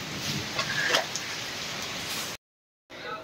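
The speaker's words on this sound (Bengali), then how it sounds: "এরকম ঝড় বৃষ্টি দুর্যোগ অনেক দিন হয়নি ব্যাঙ্গালোরে" Heavy rain pours steadily during a storm in Bangalore, a dense continuous hiss, before cutting to a brief silence and resuming more faintly.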